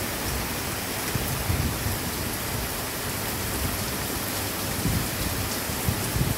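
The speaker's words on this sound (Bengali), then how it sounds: "কি মুষলধারে বৃষ্টি হচ্ছে আমাদের এখানে" Heavy downpour outside a kitchen window, a dense steady roar of rain with low rumbling swells that may be distant thunder, continuous throughout with no talking.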